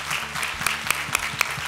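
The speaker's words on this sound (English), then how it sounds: "A big hand of applause for the chefs for what they've done today." An audience in a cooking competition studio claps for the chefs, dense steady applause with a few sharper individual claps standing out close by, no speech over it.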